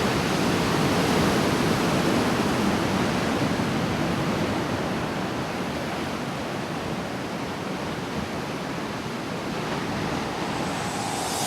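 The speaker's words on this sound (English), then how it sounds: "it's really loud, the waves constantly hitting the rocks" Loud, constant surf crashes against rocks beside a tiny hotel, a dense unbroken roar of breaking waves that fills the whole stretch without pause.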